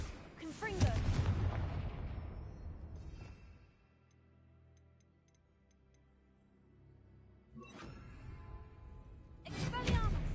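Spell blasts in Hogwarts Legacy burst out loud and booming at the start and again near the end, with a quieter lull between and a voice speaking over the action.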